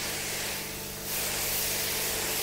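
A K250 portable electric pressure cleaner sprays from its gun in a loud, steady hiss that dips briefly and then swells back as the pressure changes.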